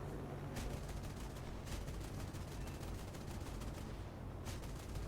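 Sustained rapid cannon fire from a Ki-83 aircraft in War Thunder, its 20mm and 30mm cannons in a dense continuous barrage with a few sharper bursts standing out over a steady engine drone.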